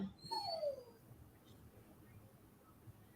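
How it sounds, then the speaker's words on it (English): A dog whimpers indoors near the foot of a staircase, giving a single high, falling whine followed by a brief yip, fairly close, then quiet room tone. "My dog's going to be obnoxious for a minute."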